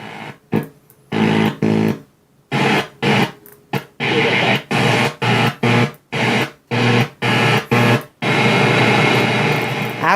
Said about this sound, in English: Man, am I getting a lot of static.